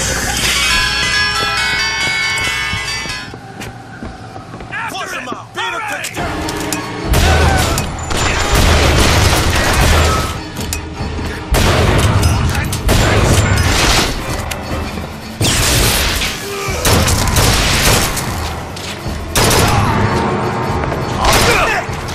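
Video game rocket explosions burst repeatedly in a loud, dense barrage of booms and crashes, following a brief musical opening.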